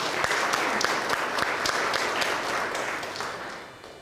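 A church congregation claps together in praise during a sermon, in a fairly regular rhythm, loud and full, tapering off toward the end.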